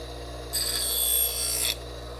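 A hand file rasps across steel chainsaw felling spikes to deburr them, making one close, bright scraping stroke a little over a second long against a quiet background hum.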